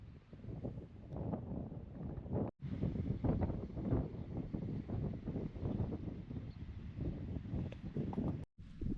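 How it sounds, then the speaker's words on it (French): Wind blowing through a mountain valley in the Tian Shan, Kyrgyzstan, a gusty rushing buffet across the microphone that rises and falls, broken by two brief drops to silence. "il y a quand même pas mal de vent"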